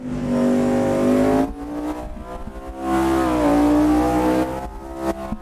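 A Mercedes GT1 race car engine in a video game roars and revs continuously from an onboard perspective at Spielberg, pitch rising and dropping through gear changes, loud and without any talking.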